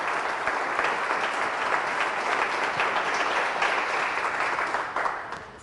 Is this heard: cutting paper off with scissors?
no